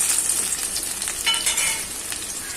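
Chopped onion sizzles steadily in hot oil, a bright crackling hiss with a few louder pops, no voices.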